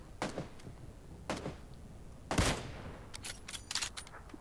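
Gunfire in the battle royale game New State: several sharp shots in an uneven sequence, one louder crack near the middle, then a quick burst of closer hits toward the end, over a faint background.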